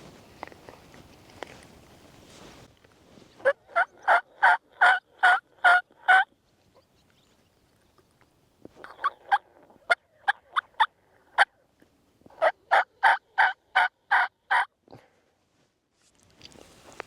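Wild turkeys gobble from a roost over a ridge in a Nebraska field, several rapid rattling gobbles at mid distance that repeat in three bursts, with faint rustling and insect buzz between them.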